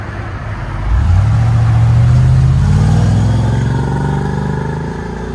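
A 1997 Chevy Silverado 1500 pickup's 5.7L V8 with true dual Flowmaster Super 50 Series exhaust fires up and revs with a deep, rumbling roar, holding loud and close before easing slightly toward the end.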